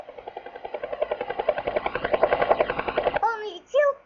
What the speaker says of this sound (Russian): Синий вертолет взлетел.